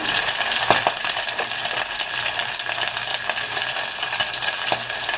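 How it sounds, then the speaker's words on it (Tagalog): Floured chicken pieces fry in hot olive oil, a steady broadband sizzle with occasional stirring clinks and pops, close and continuous throughout. "and then we start frying"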